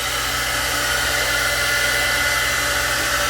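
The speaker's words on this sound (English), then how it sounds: "So what I'll do is I'll take the dryer some more" A hair dryer blows steadily and loudly at close range while drying a glued lace front quick weave, a continuous even whoosh with no pauses and no voices.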